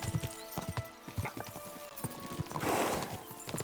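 Horses galloping in the medieval video game Kingdom Come: Deliverance II, a quick irregular clip-clop of hooves close by with a brief snort or whinny in the middle.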